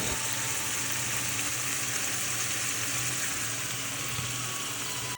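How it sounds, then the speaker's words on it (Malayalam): Fish fries in hot oil for a home-cooked lunch, giving a steady, dense sizzling hiss that runs unbroken throughout with no voices. "എണ്ണ ഒഴിച്ചു നമ്മുടെ മീനെല്ലാം ഫ്രൈ ചെയ്തെടുക്കുക"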